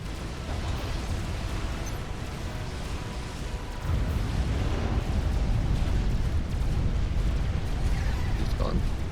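A commander unit blows up in a real-time strategy battle on a 4v4 map, a loud rumbling blast that swells and holds as a sustained roar over dense battle noise.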